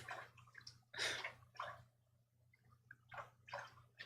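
A dog splashing in its water, heard as several short, bright bursts of sloshing and dripping separated by brief pauses over a low steady hum, fairly close, with no talking.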